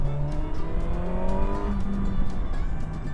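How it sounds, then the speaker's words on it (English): Kawasaki Versys 1000 SE four-cylinder motorcycle engine pulling hard under acceleration, its pitch climbing steadily and then dropping at a single clean gear change before rising again. The engine is loud and close, with no talk. "your typical 4-cylinder thrash"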